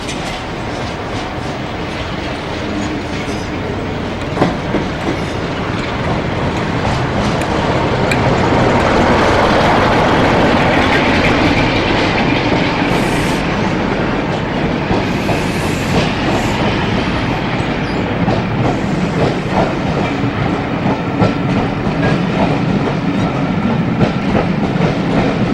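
Classic diesel locomotive 47786 hauls West Coast Royal Scotsman coaching stock at Carlisle, a steady loud rumble of engine and rolling wheels with faint clickety-clack, heard alone without voices throughout.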